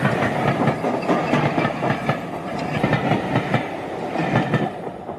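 Train running on rails, a steady rumbling roll with repeated clickety-clack wheel beats over the track joints, close and continuous with no talk.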